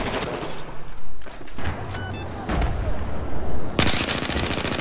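An MG4 machine gun fires loud, close bursts in Battlefield 4, with rapid repeated shots, brief gaps and a final sustained volley amid other battle noise.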